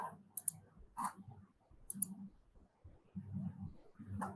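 Mouse clicks on a computer while signing up and activating an account in a trading app, a few short sharp clicks spaced apart over a quiet room with faint background murmur.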